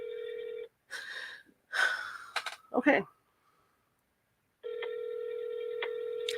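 Telephone ringing on a call during a live radio interview, a repeating electronic ring tone at the start and again near the end, with talk and a gasp-like breath between the rings.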